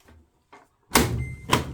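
A washing machine door is shut, giving a couple of soft handling sounds followed by a firm close thump and a second knock, near and loud, with no voices.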